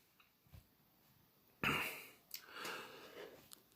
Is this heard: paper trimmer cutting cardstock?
no